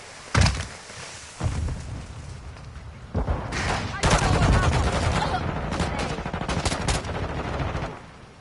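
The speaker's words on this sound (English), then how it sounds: "Taking effective fire!" Rapid automatic gunfire and bursts from the video game Modern Warfare 2, loud and sustained with sharp shot onsets and a dense, continuous rattle of weapons fire.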